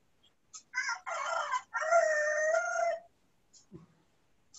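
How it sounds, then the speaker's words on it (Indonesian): A rooster crows nearby in one long drawn-out call with a couple of shorter bursts before it, followed by a faint brief sound afterward, with no talk over it. "Itu jagonya siapa ya?"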